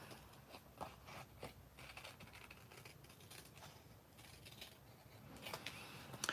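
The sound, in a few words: cutting paper with scissors along a traced line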